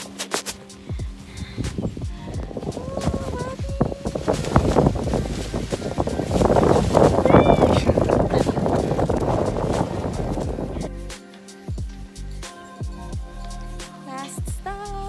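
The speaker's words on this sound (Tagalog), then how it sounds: "Hangin, grabe lamig." Strong cold wind gusting across an exposed mountain top in the Masungi area of Baras, Rizal, with rain falling; a steady loud roar buffets the microphone, swelling to a peak midway before easing into lighter gusts.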